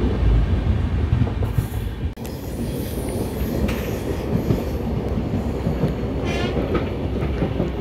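A passenger train on the Tirunelveli to Mettupalayam route rumbles along with a steady rolling roar and rattle of the carriages, close and continuous, with brief high wheel squeals near the end.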